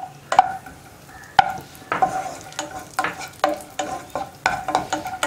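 Cashews, dates and beaten rice sauté in ghee in a pan, with a spoon scraping and stirring in quick repeated strokes over a light sizzle, close and fairly loud, and nobody speaking.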